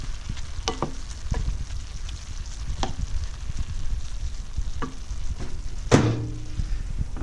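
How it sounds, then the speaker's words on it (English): Vegetables and ground beef being stirred in a frying pan, soft continuous sizzle with scattered scrapes and clinks of a utensil against the pan, one sharper knock near the end. "we'll mix the vegetables up"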